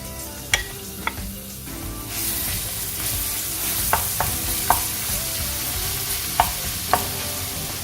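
Garlic sizzling steadily in hot oil in a pan, a continuous close fry hiss with a few sharp utensil taps scattered through, no voices.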